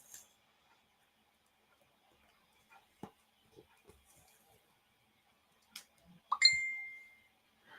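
A phone gives short notification dings amid near silence indoors: a few soft ticks and clicks, then a brighter chime with a ringing tail near the end, faint and isolated.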